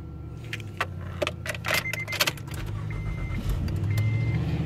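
A set of two keys for a 2015 Honda Odyssey minivan jangles in a series of short metallic clinks, close and fairly loud, alongside faint car interior hums and brief whirring sounds.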